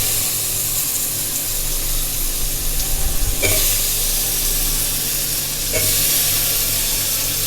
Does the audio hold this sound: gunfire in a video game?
no